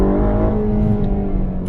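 Ferrari Roma engine running with a steady, loud, deep drone and strong low harmonics, slightly rising in pitch like gentle revving, heard close with no talk.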